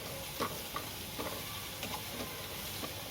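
Chopped onion and green chili fry in a pan with a soft, steady sizzle, broken by a few light scraping taps from stirring, quiet and close with no speech.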